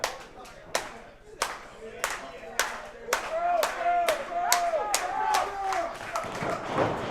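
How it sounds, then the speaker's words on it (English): Rhythmic crowd clapping at an indoor 880 Wrestling match, where sharp, evenly spaced claps build into a steady beat echoing in the arena, with a commentator's voice over the top. "I started that clap to motivate our audience."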